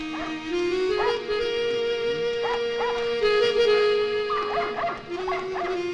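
Several dogs bark and yip repeatedly with whimpering howls mixed in, loud and close, a steady run of overlapping calls.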